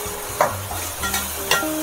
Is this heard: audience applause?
no